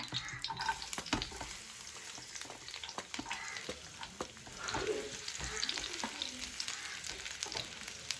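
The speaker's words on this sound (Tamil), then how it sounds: "பூண்டு போட்டு வதக்கிக்கங்க" Garlic sautéing in coconut oil in a pan for coconut rice, a steady close sizzle with scattered sharp crackles and occasional stirring scrapes, no talk.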